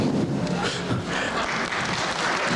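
Audience applause at a 1999 Acton town meeting, a continuous patter of many hands clapping throughout, fairly loud and close.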